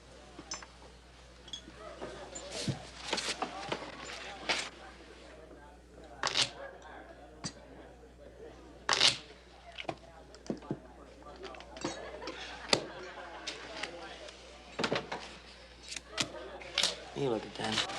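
Playing cards are shuffled and handled over about eighteen seconds, producing scattered crisp snaps and riffling clicks at irregular intervals, close by and partly under a conversation.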